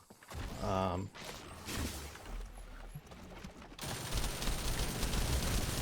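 An Albion Cavalry gun in The First Descendant firing while the character moves, rapid mechanical gunfire bursts and whooshes that thicken into a steady dense stream of shots near the end, loud and close.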